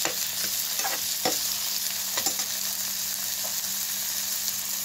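Chopped green chilies and tomatoes stirred in a sizzling pan, a steady frying hiss with several scraping stir strokes from a spoon, close and alone without talking.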